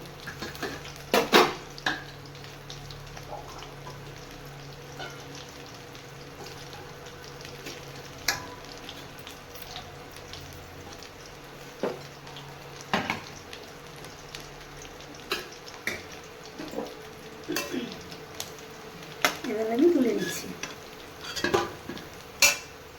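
Fish roe fritters frying in a pan, with a faint, steady sizzle broken by occasional clinks and scrapes of a utensil against the pan, and no talking.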